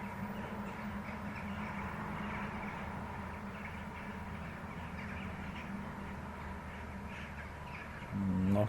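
Crows roosting in a city park cawing steadily across a dense, continuous flock din, with a faint rumble underneath and a brief louder burst near the end.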